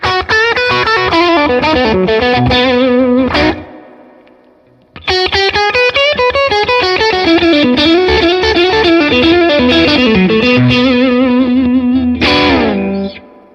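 An overdriven Fender American Professional Stratocaster plays two loud, dense lead phrases on in-between pickup positions, fast notes and bends, separated by a short near-silent pause, each phrase closing with a bright strum; no talking.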